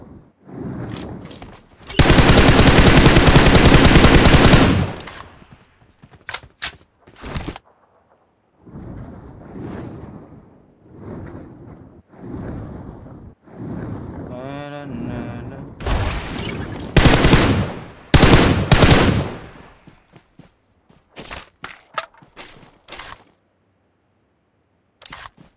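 PUBG Mobile gunfire: a sustained automatic burst early on, then scattered single shots and short volleys with pauses between them, loud and close.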